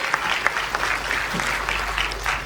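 Sustained applause from a crowd, a dense wash of clapping with a few sharper individual claps standing out.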